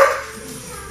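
A puppy lets out a single short, close bark that fades quickly during an indoor daycare training session.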